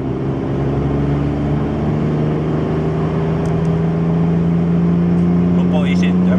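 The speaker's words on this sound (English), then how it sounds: "Now we are with kick down on" A VW Lupo 3L with a free-flow exhaust and turbo accelerating flat out under kickdown, a loud, steady engine drone close by that climbs gradually and holds without breaks.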